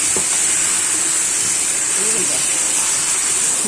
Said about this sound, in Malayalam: ഇനി ഇതിലേക്ക് നമ്മൾ വേവിച്ച് വെച്ച നമ്മുടെ ചക്ക ചക്ക ഇട്ട് കൊടുക്കാം